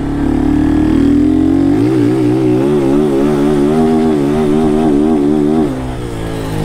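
Motorcycle engine revving while the clutch is slipped and the brake is half held, a loud close drone that rises in pitch and then wavers rhythmically before dropping off near the end.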